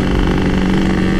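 Honda CBR motorcycle engine at a race, a loud, steady running drone with a continuous tone, close and alone, no talk.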